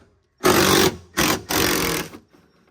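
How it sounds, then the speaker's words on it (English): A power driver spins out T27 Torx screws from the door latch of a 1999-2010 Ford Super Duty extended cab, making three loud, close whirring bursts with brief gaps and no talk. "So now you got to take all these Torx out for the upper and the lower down."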